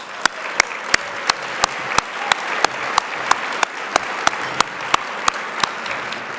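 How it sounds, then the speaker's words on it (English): An audience applauds at an awards ceremony with steady, loud clapping that fills the whole stretch. Sharp accented claps recur at a regular, almost rhythmic pace throughout. "give yourself a round of applause"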